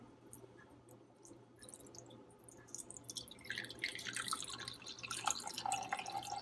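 Liquid for rasgulla poured slowly into a cloth-lined vessel, a faint trickling and dripping that builds gradually from near silence into a steadier splashing stream, with no talking.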